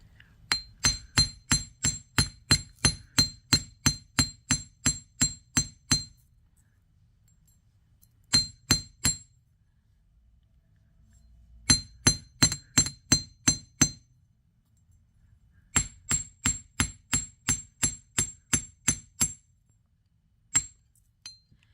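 Repeated metallic hammer strikes on a bench block ring out close by in quick, steady bursts, pausing between runs of a dozen or more blows.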